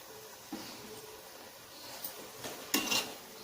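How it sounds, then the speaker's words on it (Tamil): Ground tomato being added to fried onions in a pan for a chicken gravy, faint soft clinks and scrapes of a spoon against the pan with a brief louder clatter near the end. "இப்போ நான் தக்காளி அரைச்சி வச்சுருக்கேன்ல, அதை போட்டுக்கலாம்."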